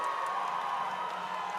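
A robotics event crowd cheers for the head referee, a steady wall of shouting and whooping voices, loud and continuous throughout the short burst.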